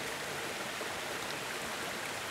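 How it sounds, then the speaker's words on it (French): A river in Polynesia flows in a soft, continuous wash of water, faint and even, with no voices. "Et tu entends l'eau, le bruit de cette eau qui coule."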